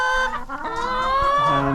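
Free-range chickens cluck near a large water bucket in a mobile chicken caravan, giving close, steady, overlapping calls with a rising, drawn-out cluck near the end.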